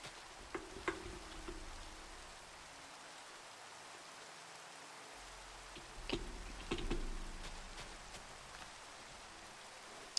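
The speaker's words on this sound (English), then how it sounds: "And it's raining." Rain in the Minecraft video game, a faint, steady hiss of falling drops with a few soft ticks and patters scattered through it, heard alone.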